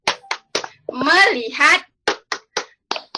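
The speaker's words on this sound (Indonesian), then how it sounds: "Yuk, kita tepuk konsentrasi yuk." A classroom 'concentration clap' routine: three sharp hand claps, then a chanted phrase by voices, then a quicker run of five or six crisp claps, close and loud.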